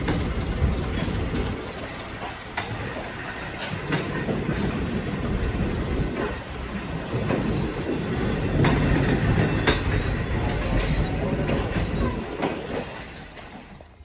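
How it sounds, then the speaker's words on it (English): A train at Linstead station in Jamaica uncouples and recouples, giving a steady loud rumble with clanks and metallic clicks scattered throughout. A low mechanical drone runs underneath the whole time. "that's the train uncoupling in one direction"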